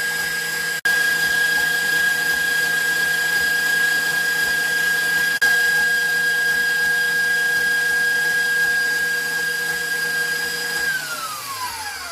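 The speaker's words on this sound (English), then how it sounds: "Once it has been mixing at medium speed, you can turn it up to a higher speed." An electric stand mixer at speed 8 whips cream for strawberry shortcake, giving a loud, steady motor drone with a high whine that holds evenly, then winds down and drops in pitch at the end.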